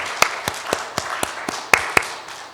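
Scattered hand claps from a small church congregation, about nine separate sharp slaps spread loosely across a couple of seconds, with no dense applause.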